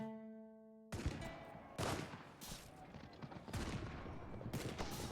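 Cannon and musket fire from a battle in the strategy game Europa Universalis IV, a rolling fusillade of sharp, loud bursts arriving every second or so over a continuous din of gunfire.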